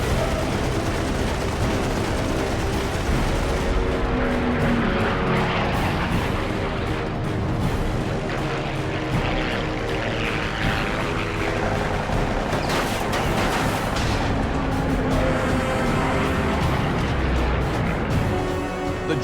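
Northrop P-61 Black Widow night fighter firing its machine guns and cannons, a dense, loud continuous roar of rapid gunfire and blasts lasting the whole stretch without talk.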